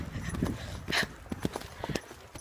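A trotting pony's hooves clip-clop with an uneven rhythm of several close hits against a windy, rustling background, with no talking.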